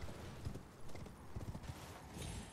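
In the video game Elden Ring, a horse's hooves clip-clop in a quick uneven rhythm, fairly faint under a soft game ambience.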